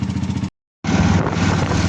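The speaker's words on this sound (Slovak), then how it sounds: "počuť na motore, že ten stroj dostáva nenormálne veľa zabrať" A motorcycle engine labours hard while climbing a steep hill, a loud, steady low drone with rhythmic pulsing that cuts out briefly and then resumes just as strained.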